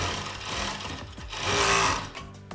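A sewing machine stitches a children's coat close by, whirring in steady rapid runs that speed up and briefly pause.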